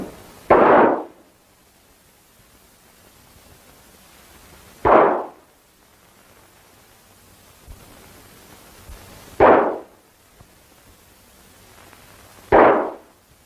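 Four sharp, loud gunshots spaced several seconds apart during a saloon shootout in an old Tim McCoy western film, each crack ringing briefly before near silence.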